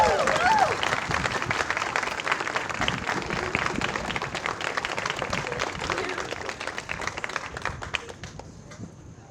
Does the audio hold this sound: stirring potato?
no